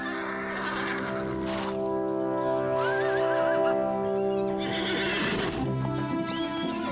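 Cartoon horse neighs and whinnies over steady clip-clopping hooves, loud and close, with a music bed running underneath throughout.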